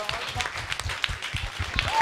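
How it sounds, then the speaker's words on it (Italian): Studio audience applause on an Italian summer TV show in Saint-Vincent, fairly faint and uneven, with scattered claps and a busy crowd texture through the whole short stretch. "Un applauso con noi quest'anno, Alessia."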